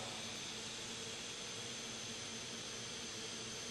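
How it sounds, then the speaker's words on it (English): A modified tractor-pulling turbine engine whines in a steady, loud, unbroken roar, a dense jet-like hiss with a high tonal edge holding constant throughout. "he may have just got the other turbine running the way he wanted"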